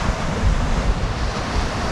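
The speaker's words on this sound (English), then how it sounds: "And yeah, those waves are crashing in." Rough sea waves crash continuously onto the shore at Sidmouth in East Devon under a strong easterly wind, a loud, dense roar with gusty wind noise and no talking.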